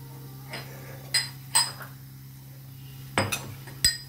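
Ginger and spices are crushed for masala tea with a few separate metallic knocks and clinks, close but fairly soft, spaced irregularly with quiet between.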